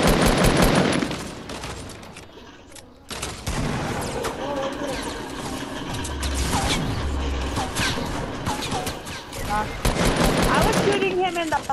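Gunfire in the Fortnite video game, with bursts of rapid shots and mechanical clatter running through most of the passage, loud and dense, while a voice talks over parts of it.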